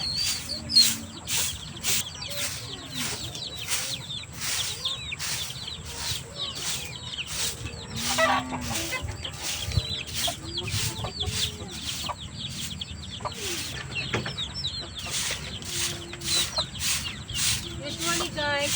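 Three-month-old Sweater chickens in a backyard coop, steady soft clucking and chirping from several birds close by, with repeated rhythmic scraping or tapping throughout as someone cleans.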